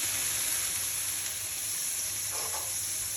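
Butter sizzling loudly in a hot pan for a Black Angus steak, a bright continuous frying hiss with a steady crackle throughout.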